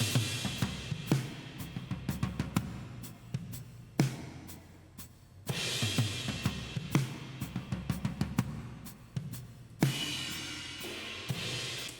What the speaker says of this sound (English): You can hear when the kick drum's in, it kind of ducks out a little bit and lets it take over.